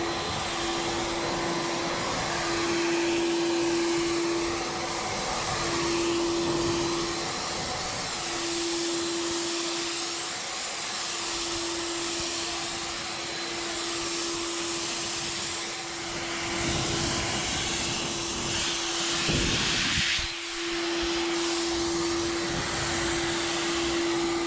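Steady, loud airy hiss of a spray gun laying down an avalanche gray Plasti Dip base coat on a rusty Ram 1500, running continuously for over twenty seconds with only a brief dip near the end.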